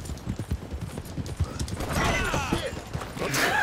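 Horse hooves in Red Dead Redemption 2, a rapid run of clip-clop hoofbeats up close, followed by a rising wash of noise that may include gunfire, with some voice sounds mixed in.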